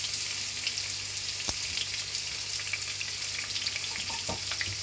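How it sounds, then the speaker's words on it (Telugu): Two boiled onions fry in oil for a mutton curry, giving a steady broadband sizzle with a few sharp pops and crackles. The sound runs continuously at close range with no talking. "ఆ ఉల్లిగడ్డలను బాగా వేపుకోవాలి"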